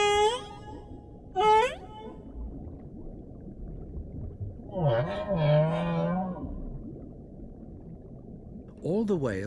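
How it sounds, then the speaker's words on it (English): Humpback whale song: long, wavering moans and rising tonal cries sounding in separate phrases, a short call near the start, a longer swooping passage in the middle and another at the end, over a steady low rumble. "All the whales in each ocean sing the same song."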